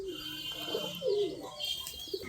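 Pigeons, both plain and crested breeds, cooing during flight training at a loft, with soft repeated coos and a few faint chirps against a quiet outdoor background.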